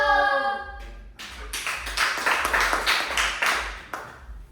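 A primary school class performs a focus clap routine in unison, a series of sharp rhythmic group claps in quick patterns after a brief sung or spoken tone, fairly close and loud.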